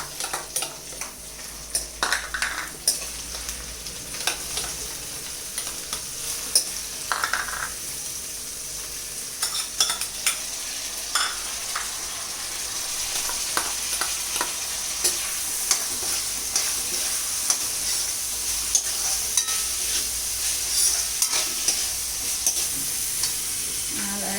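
Mixed vegetables with chili and ginger paste stir-fried in a pan for a paneer sizzler, a steady broadband sizzle broken by repeated scrapes and clinks of a spoon against the pan, close and continuous with no talking.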